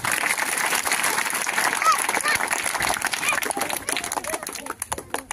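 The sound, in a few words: audience applause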